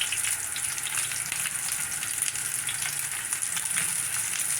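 Pork sizzles and crackles steadily in a pan of hot cooking oil for sinigang, a continuous bright hiss with scattered pops, moderately loud and without voices.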